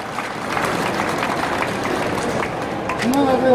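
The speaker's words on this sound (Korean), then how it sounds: "큰 박수 부탁드리겠습니다" An audience applauds at a welcome ceremony for the Cheongju mayor at the 2019 Osong cosmetics and beauty industry expo, a steady, dense wash of clapping that holds for several seconds before a voice rises near the end.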